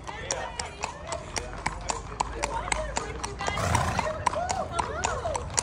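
A registered quarter horse gelding clip-clops steadily with evenly spaced hoof strikes, fairly close, while people chat over it and a horse whinnies briefly near the middle.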